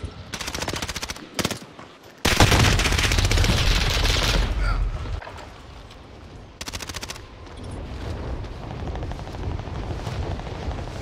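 Video game combat with rapid machine-gun bursts, single shots and a long heavy roar of explosion, loud and dense with short gaps between volleys.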